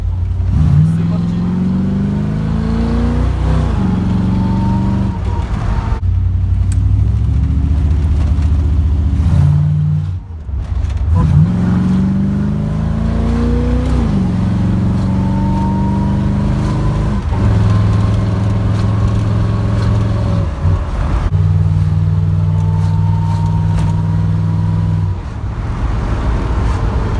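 A Bentley Continental GT V8 coupe accelerating hard from a standing start, its engine note climbing through several gears with brief dips at each shift, loud and close, continuous for the whole stretch.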